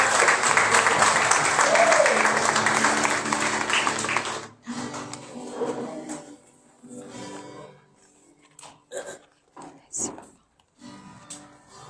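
A church congregation applauds and cheers loudly for several seconds during a French-language worship service, then the clapping fades into scattered claps, shouts and a voice over a quieter room.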